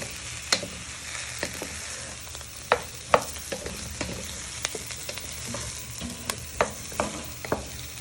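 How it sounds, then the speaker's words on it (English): Mushrooms sizzle steadily in a hot pan with shallot, garlic and oil as they are tossed, with a constant frying hiss broken by about a dozen sharp clacks and scrapes of the stirring, close up and with no voices. "So you're just giving them a good toss in for a few minutes."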